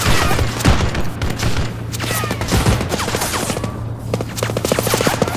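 Rapid bursts of gunfire aimed at a robot in the Warhound game, loud and close, with a steady low engine hum beneath dense crackling volleys and heavy thuds.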